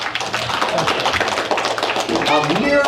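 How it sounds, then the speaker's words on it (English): A round of applause for two children at a family activity night, steady clapping from a group filling the space, with talk and cheering voices rising over it toward the end. "Let's give these two a nice round of applause."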